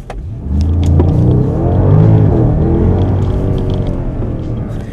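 Porsche Panamera Turbo launching under launch control, a loud engine surge that swells into hard acceleration and holds a strong rising roar, close and continuous with no voices.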